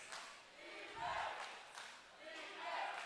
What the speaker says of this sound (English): Now you can hear the crowd getting back into things here, Vince, chanting defense.